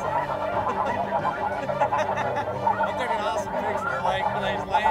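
A large flock of snow geese honks constantly on a hunt in Arkansas, forming a loud, dense wall of overlapping calls with some voices mixed in.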